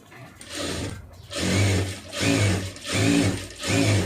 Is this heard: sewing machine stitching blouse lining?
yes